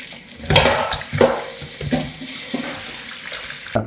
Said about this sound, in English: So you just stir it in.